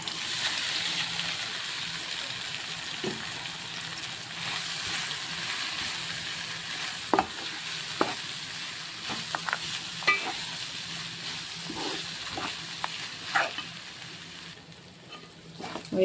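Puffed rice being stirred into hot sizzling oil tempering for Telugu-style murumuralu upma, with a steady frying hiss, scraping stirs and intermittent sharp clinks of a spoon against the pan.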